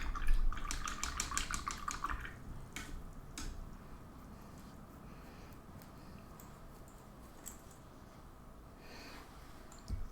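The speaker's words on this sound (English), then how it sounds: "Rinse the brush." A paintbrush is rinsed in a small pot of water during a miniature ocean painting session, with quiet clinking taps and light swishes at the start and again near the end, over a faint, hushed room.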